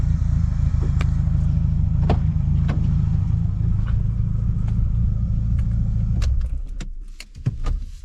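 Renault Clio 2 RS engine idling with a steady low rumble, then shut off around six seconds in, leaving brief clicks, taps and rattles in the quiet afterward, with no voices.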